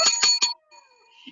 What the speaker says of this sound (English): Ring the bell for her.